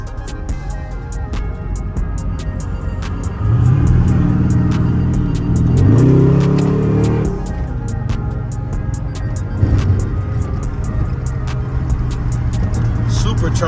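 A supercharged Trackhawk races on a road, its engine rumbling steadily and surging louder around the middle as it accelerates, heard from inside a following car while people talk excitedly over the noise.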